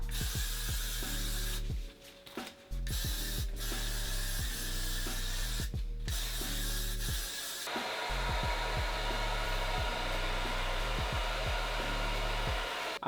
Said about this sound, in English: Then you're gonna take your trusty blow dry again and some hairspray.